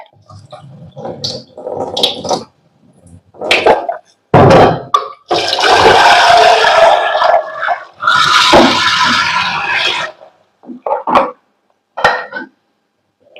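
Soaked urad dal being washed by hand in water for dosa batter, with sloshing, swirling splashes and pouring in irregular bursts separated by short pauses.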